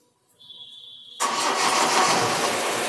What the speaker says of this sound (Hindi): तो देखेंगे तो हाफ सेल्फ में गाड़ी अपनी स्टार्ट हो गई।